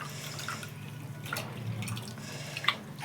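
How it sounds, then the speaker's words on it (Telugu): Water poured over tamarind and tomato in a village home kitchen, giving a soft, close splashing and dripping with a few small drops and clinks, no voices. "వాటర్ ఇంకా వేస్తానండి ఫస్ట్ కొద్దిగా వేసాను"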